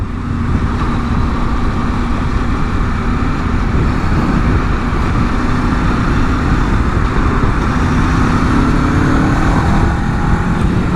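Loud, continuous road traffic with a car passing close by, a steady broadband roar of engine and tyre noise filling the whole stretch without any talking.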